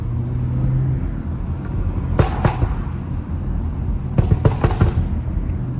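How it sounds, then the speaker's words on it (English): A BMW F30 335i with max-burble exhaust tuning drives under a steady low engine rumble, with sharp crackling pops in two short clusters, close and fairly loud. "Just driving around making a bunch of noise, you know, pops on max"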